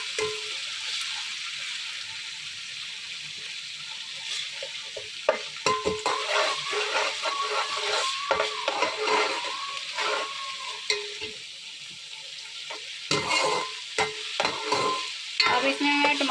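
Ingredients fry in a pan, steady sizzling with intermittent scraping and stirring clatter from a utensil, growing busier partway through, close and fairly loud with no talk.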